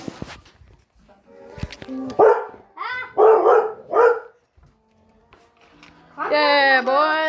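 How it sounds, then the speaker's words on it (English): A dog barks several times close by in a quick run of sharp barks, then gives a longer howling yelp, with people talking in between. "I can imagine she barked while you were going through"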